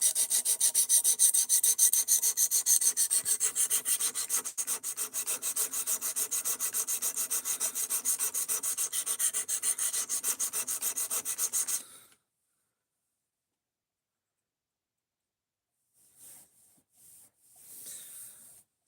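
A knife is worked on sharpening stones up to 800 grit before ceramic, giving a steady close rasping scrape of repeated strokes for about twelve seconds, then silence with a few faint brief scrapes near the end.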